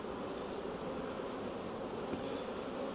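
Honey bees buzz densely and continuously around an open hive frame during inspection of a colony with a drone-laying queen, a close steady hum with no voices.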